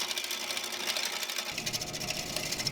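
A Harbor Freight wood lathe spinning a wooden candlestick blank, a steady mechanical whir with a rapid rhythmic chatter; the tone drops partway through as the motor settles.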